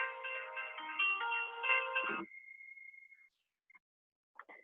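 A mobile phone ringtone goes off during a classroom lecture on nucleic acids, a loud melodic electronic ring lasting about two seconds before cutting off, followed by a faint lingering tone and a few brief quiet blips.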